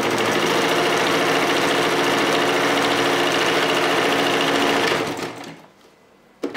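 Sewing machine stitching a ruffle for a flamenca dress, a fast, steady, loud mechanical whir running continuously, then slowing and stopping near the end with a brief click.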